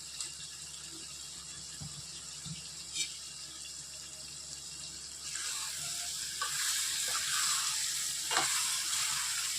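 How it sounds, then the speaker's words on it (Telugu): Egg curry with whole eggs being stirred in a pan, a low steady sizzle with occasional spoon clicks, growing brighter and louder midway as the mixing continues, close by and without talk. "ఎగ్స్ అన్నీ వేసినాక ఒకసారి కలుపుకోవాలండి."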